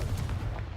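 A Confringo blasting spell cast in the video game Hogwarts Legacy, a dense, booming burst with a rumbling low end, heard close and alone.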